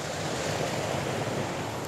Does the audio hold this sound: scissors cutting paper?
no